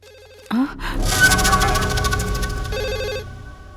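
A telephone bell rings loudly and continuously, a steady electronic trill over a low background hum, lasting several seconds.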